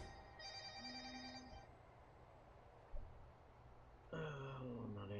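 A telephone rings in a prison management game, a short tonal ring early on and a brighter repeating ring near the end, both faint and low in the mix beneath ambient game sound.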